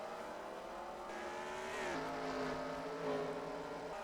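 Race cars pulling out of pit road in a Universal Orlando cup series racing game event at Auto Club, steady layered engine drone with rising and sliding pitches as the cars accelerate past, no talking.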